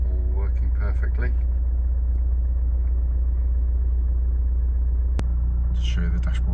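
A Renault Captur 1.5 dCi diesel with automatic gearbox running, a steady low idle rumble held throughout, with someone talking over it.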